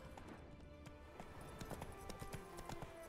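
Roach, the horse in The Witcher 3, gallops in a steady clip-clop rhythm of hoofbeats. The sound is close and moderately loud over a continuous game ambience, with no voices.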